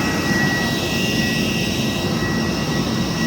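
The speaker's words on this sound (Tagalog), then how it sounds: "So kababa ko lang sa eroplano." An airplane at the airport in Tacloban produces a constant, loud engine roar with a high whine on top, steady and unbroken throughout, with no voices.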